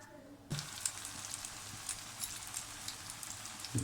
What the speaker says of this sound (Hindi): अब तो चलते हैं, इसको फ्राई करते हैं।